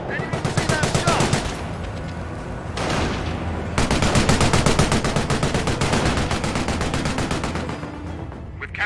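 Rapid machine-gun bursts from the World War II strategy game Company of Heroes: Opposing Fronts at Hill 112, loud sustained rattling fire with a brief lull before resuming, over faint battlefield noise.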